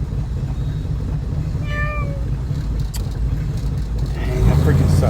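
A cat meows a short series of rising, whiny calls, one after another, over a constant low engine-like rumble, with a louder rumble swelling near the end.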